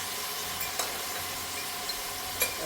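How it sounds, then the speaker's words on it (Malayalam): Beef with salt, turmeric and chili is stirred as it fries in a pan for a beef roast, giving a steady soft sizzle and a few light scrapes of the spoon. "ഇതൊന്ന് നന്നായി ഇളക്കി ചേർത്തെടുക്കാം"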